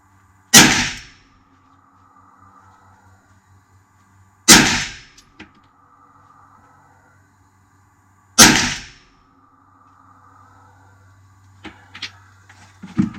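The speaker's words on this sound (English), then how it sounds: "I'm going to do a 5 round group into the top box, roughly" Pistol fired three times at close range on a range, loud sharp cracks spaced about four seconds apart with quiet between, then faint metallic clinks at the end.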